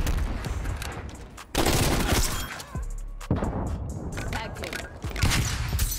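Tec-9 in Call of Duty: Cold War firing with a burst fire repeater, sharp bursts of shots in quick clusters broken by short gaps, with loud bangs and someone talking over parts of it.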